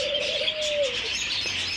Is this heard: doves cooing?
yes